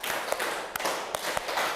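Students in a classroom clap together in a counted pattern, sharp group claps landing at irregular intervals over a low background hum, moderately close.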